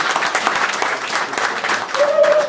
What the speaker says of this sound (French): je vais vous demander d'applaudir encore une fois le chef de l'État